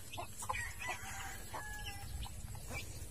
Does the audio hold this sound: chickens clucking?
yes